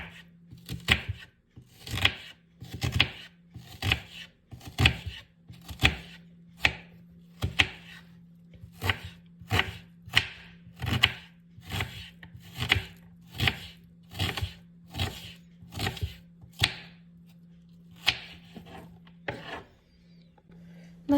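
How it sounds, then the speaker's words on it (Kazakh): An onion is chopped with a knife on a board for a manti filling: about twenty steady, evenly spaced crisp strokes over a faint constant hum, with no talking. "Енді пиязымызды турап аламыз."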